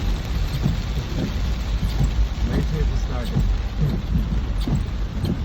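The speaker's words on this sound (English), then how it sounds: "Global Big Day rain." Steady heavy rain from a storm pours across the recording in Guyana, with a continuous hiss and scattered low rumbles that may be thunder or passing traffic, and some talk faintly underneath.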